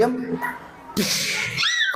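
In a comedy stage performance at a school Maulid Nabi celebration, a sharp whip crack lands among lively speech, with voices talking before and after it.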